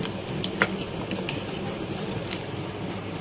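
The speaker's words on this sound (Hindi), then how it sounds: "और इन सब चीज़ों को हमें बहुत अच्छी तरह से मिक्स करना है।" Mutton gravy ingredients and salt being mixed in a bowl, giving soft, steady wet squishing with a few sharp clicks of a spoon against the bowl, close and fairly quiet.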